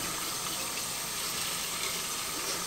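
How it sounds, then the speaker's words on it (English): Water pours steadily through a Lechuza self-watering plant pot as it is flushed, a continuous broadband rush that stays loud and even throughout with no voices. "So you're just gonna flush your plants, and the water will come out at the bottom."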